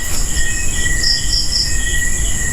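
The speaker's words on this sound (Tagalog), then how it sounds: "Kuliglig lang yung maririnig nyo dito, guys." Crickets chirp steadily beside a cemetery on a quiet road, a continuous high insect trill with short louder pulses, close and alone with no talk.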